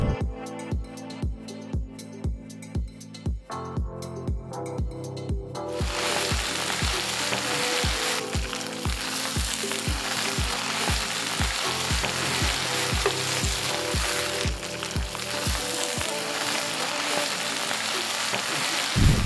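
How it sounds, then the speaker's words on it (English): Spinach sautéing in a pan gives a loud, steady sizzle for the whole stretch, with a quick run of rhythmic stirring or tossing knocks through the first part and no talking. "I'm going to saute some spinach."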